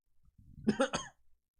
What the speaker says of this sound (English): I have like a burp and a cough at once